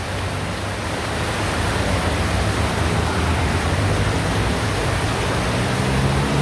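Steady heavy rain pours down outdoors beside a river while someone shelters under a tent, a dense unbroken hiss with no voices over it.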